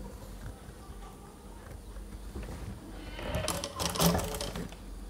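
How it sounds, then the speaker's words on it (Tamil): A sewing machine stitches lace onto the side of a saree blouse, a soft steady mechanical whirr that grows louder and busier toward the end, with a faint voice nearby. "இப்போ இதை வச்சு நம்ம சைடில் தச்சு எடுத்துக்கலாம்."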